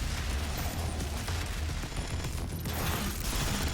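Relentless, loud gunfire and blasts from the Doom video game fill the mix, rapid overlapping shots forming a dense, unbroken barrage during a boss fight.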